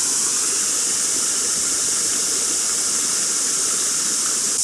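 A waterfall in Pukekura Park, New Plymouth, New Zealand, gives a steady, even rushing hiss of falling water that carries on unbroken throughout, with no voices.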